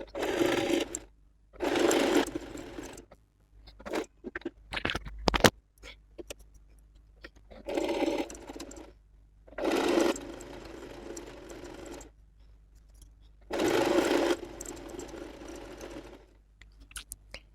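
A sewing machine stitches a blouse collar onto fabric in repeated bursts of whirring needle runs, each lasting about a second, broken by pauses with handling clicks and rustling cloth.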